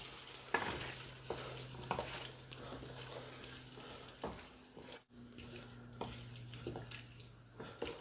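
Potatoes and tough cauliflower stalks fry in a pan on medium heat, a soft steady sizzle broken by clinks and scrapes of stirring.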